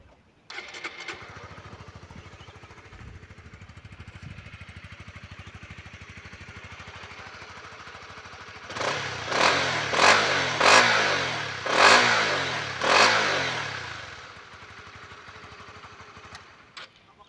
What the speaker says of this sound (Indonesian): sekarang saya akan coba bandingkan untuk suara mesin dan juga knalpot di motor ini ya